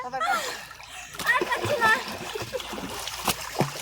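Someone swims in water on a Shravan Monday outing, with choppy splashes and splatters close by while voices, including a child's, talk over them.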